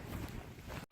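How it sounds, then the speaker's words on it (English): Rough, blustery wind on the Cateran Trail in Scotland buffets the microphone in a continuous low rumble, briefly cutting out near the end before gusting back. "It's a bit windy"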